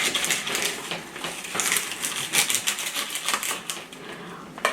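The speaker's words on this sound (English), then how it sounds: "I'm going to just cut these ends like so" A knife trims the ends off asparagus spears on a cutting board, making a quick series of close, crisp chopping taps and crunches in an uneven rhythm with no talk.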